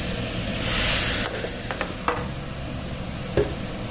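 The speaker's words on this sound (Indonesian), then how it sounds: "lalu beri sedikit air. Fungsi airnya supaya ayamnya ini tidak gosong dan lengket di wajannya ya." Chicken sizzles steadily in a wok after a little water is added, with a few sharp scrapes and clinks of stirring cutting through the close, continuous hiss.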